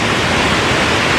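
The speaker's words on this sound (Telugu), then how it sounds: "గుంజివాడ వాటర్ ఫాల్స్ అంటారు దీన్ని." Gunjivada waterfall roars as a steady, dense wash of falling water, loud and unbroken, with no voices over it.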